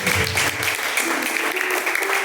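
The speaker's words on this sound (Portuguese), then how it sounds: "Palmas bem fortes para Jesus, aleluia." A church congregation applauds strongly for Jesus during a live service, a continuous, fairly loud clapping texture with sustained tonal sound and low rumble underneath.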